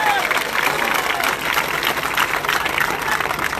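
Sustained audience clapping at a political rally speech in Varanasi, a dense, even wash of applause and crowd noise lasting throughout at steady loudness.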